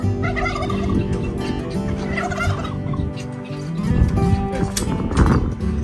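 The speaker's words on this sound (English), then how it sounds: "Being attacked by turkeys. The turkeys got me." Several turkeys gobble loudly and repeatedly in rippling bursts, close by, with a busy off-grid homestead farmyard background.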